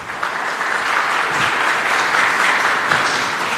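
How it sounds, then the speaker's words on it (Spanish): Sustained applause fills a ceremony hall as an award is presented at a tourism ministry event, a dense steady crowd clapping from start to finish with no voices over it. "Un aplauso"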